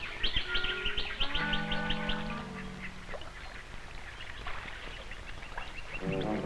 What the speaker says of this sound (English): even the dingo is startled at the squabbling of the darters